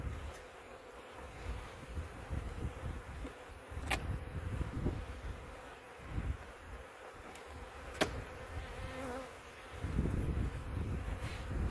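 Honey bees in a hive being inspected after light smoking: a close, continuous buzzing hum of many bees, with a few soft knocks and handling sounds from the frames, no speech.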